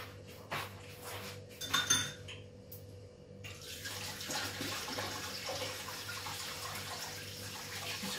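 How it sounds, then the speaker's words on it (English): Hands are washed at a kitchen sink while baking bread, with a few clinks of cutlery and dishes first and then a steady stream of tap water running close by. "wash my hands."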